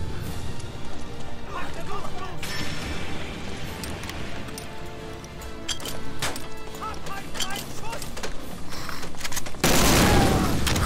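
Gunfire in the World War II shooter Medal of Honor: Allied Assault crackles in rapid, scattered shots mixed with running footsteps and mechanical clatter, ending in a loud close burst while someone talks.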